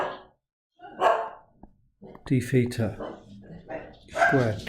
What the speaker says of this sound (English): Apologies for the dogs barking outside.